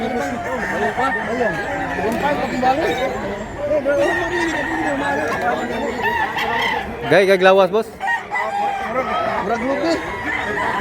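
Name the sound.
rooster crowing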